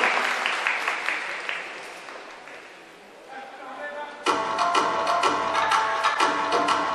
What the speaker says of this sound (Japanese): 手拍子